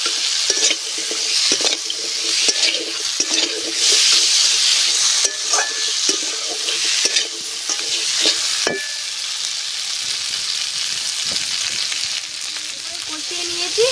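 Crab being cooked and stirred in a pan, with loud bright frying hiss and repeated scraping strokes of a utensil, the sizzle easing somewhat in the latter half.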